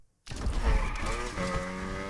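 A widebody Mazda RX-7 slides with the handbrake pulled in Need for Speed Unbound, tires squealing sharply under a loud, close engine drone that settles into a steady tone.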